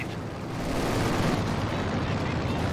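Explosions and gunfire from a WWII strategy game with Panzer tanks, a dense, loud rumble of blasts and shots building and holding steady throughout.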